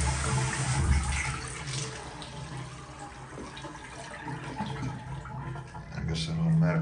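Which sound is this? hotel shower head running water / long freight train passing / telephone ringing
hotel shower head running water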